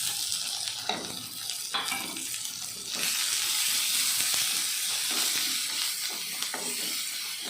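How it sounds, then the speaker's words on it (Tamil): Grated carrot sautés with onion, green chili and curry leaves in a hot pan, giving a loud, continuous sizzle and hiss. A spatula scrapes and stirs now and then, and the frying gets louder partway through. "கேரட்டு போட்டு வணக்கிக்கலாம்"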